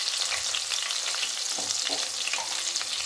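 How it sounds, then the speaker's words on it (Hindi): Finely chopped green chillies fry in hot oil, a loud, steady hiss and crackle that carries on without pause, with soft stirring under it. "अब मैं इसमें डाल दूंगी बारीक कटी हुई हरी मिर्चें"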